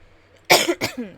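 A close, loud double cough: two harsh bursts in quick succession, then silence.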